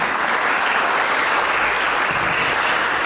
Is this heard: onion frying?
no